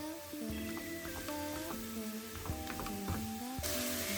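Spinach and onions sautéing in a pan, stirred with a utensil: a steady sizzle with repeated scraping and clinking strokes against the pan, close and continuous, with no talking.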